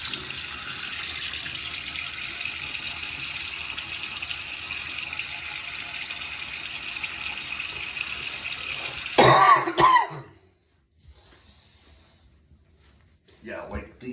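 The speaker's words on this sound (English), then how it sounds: "Wet my face a little bit." Tap water runs steadily into a bathroom sink for about nine seconds while someone wets their face before shaving. The flow stops abruptly, followed by a short quiet stretch and a few faint movements.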